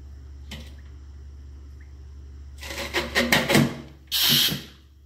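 A homemade pneumatic corn cutter with a lengthened stroke fires in a burst of sharp, clattering strokes near the mic, then one longer loud hiss-and-thump, over a steady low hum.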